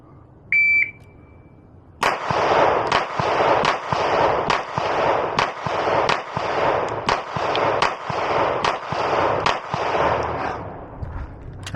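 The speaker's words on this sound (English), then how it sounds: "let's go ahead and we're going to shoot left-handed" Ten sharp gunshots from a Beretta APX pistol fired left-handed at a range, loud and close, evenly spaced about a second apart after a short beep.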